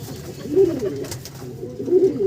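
Pigeons kept by a fancier coo in low, throaty bursts close by, two or three calls rising over a soft murmur of birds.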